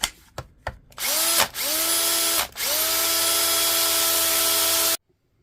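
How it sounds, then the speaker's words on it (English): A Milwaukee M18 cordless drill runs on a repaired battery, with a few short trigger bursts that spin up and stop, then one longer steady whine that cuts off abruptly, loud and close. "We'll just try it on a drill to show you."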